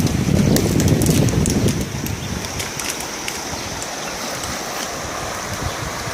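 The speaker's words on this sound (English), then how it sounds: "so this is the river where I go across the river" River water flows in St Thomas, Jamaica, a continuous rushing and splashing close by, heavier at first and then settling into a steady wash.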